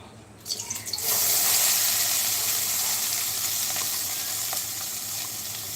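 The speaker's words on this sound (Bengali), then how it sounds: "ফ্রাইড রাইস রান্না হচ্ছে" Fried rice cooking in a pan gives a loud, steady sizzle that starts abruptly after a brief rustle and holds unbroken, close up, with no talk.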